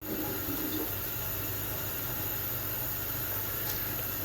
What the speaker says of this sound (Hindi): पानी हमारा बॉयल हो चुका है, अब हम इसमें चावल ऐड करेंगे।